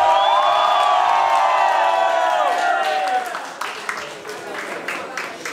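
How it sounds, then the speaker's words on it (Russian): Crowd at a breakdancing battle final applauding and cheering for a b-boy, a dense sustained roar with whoops at first, easing slightly toward the end while a voice speaks over it. "Я считаю, что для этого парня абсолютно недостаточно таких аплодисментов."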